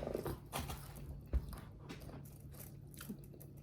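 Several crisp crunching bites into Popeyes chicken tenders, close to the mic, with one sharper crack partway through and quiet mouth noises between.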